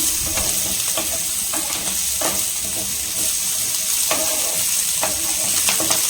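Paneer sizzles as it roasts in butter in a pan for a butter paneer kadai gravy, a steady broadband frying hiss with occasional stirring scrapes, close and continuous with no talk.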